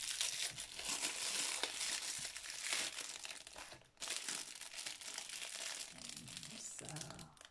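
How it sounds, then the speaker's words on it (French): Thin plastic packaging from an AliExpress parcel crinkles and tears in a run of faint, close rustles and rips, with a voice talking softly over it. "le plastique se déchire"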